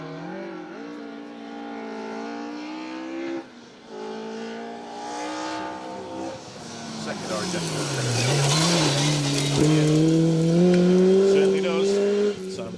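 A 2.4-litre Ford Escort Cosworth rally car drives a forest stage in Wales during the Welsh Rally Championship, its engine droning and revving steadily and swelling louder as it passes, with a commentator talking over it throughout.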